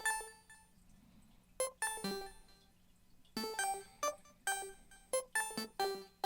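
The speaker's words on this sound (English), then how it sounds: "Next, I added probably my favorite part of the beat, which is this pluck." A bright synth pluck preset with delay plays a bouncy melodic line in a beat, short plucked notes ringing out in clusters with echoing repeats over a soft low hum, clear and alone without any voice.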